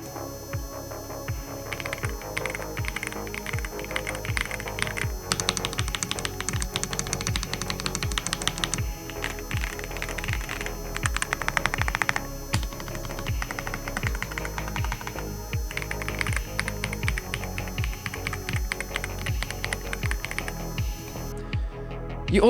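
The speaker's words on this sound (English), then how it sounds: "Typing sounds rich, creamy and soft." Steady, rich typing on a gasket-mounted mechanical keyboard with foam inside and pre-lubed, smooth Nacode X switches, its soft even keystrokes running for over twenty seconds with a low hum beneath.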